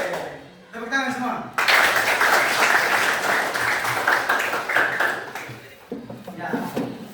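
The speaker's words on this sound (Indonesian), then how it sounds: "Tepuk tangan semua." A class in a school arts lesson breaks into loud, sustained applause for several seconds after a brief spoken prompt, with the clapping tapering off and a voice resuming at the end.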